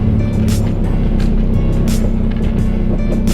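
A lowered car rolls slowly over a small driveway bump, a steady low engine rumble with light ticking and rattling, close up and without any scrape.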